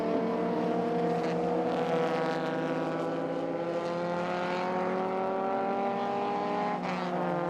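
Loud, sustained engine drone of race cars lapping the CARCO.com.au Raceway circuit in a WA Sporting Car Club regularity event, its pitch rising steadily as a car accelerates nearby.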